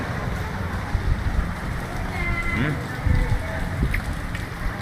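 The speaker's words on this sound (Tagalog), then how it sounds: "Lakas ng ulan." Steady, dense rain hissing and pattering across a hard surface, loud and continuous, with a voice murmuring faintly underneath.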